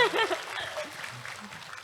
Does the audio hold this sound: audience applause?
yes